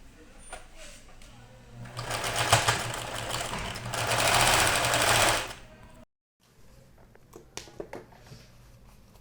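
A sewing machine stitches a small fabric toy egg in one loud, steady, whirring run lasting a few seconds, with talking in the room and softer handling clicks before and after.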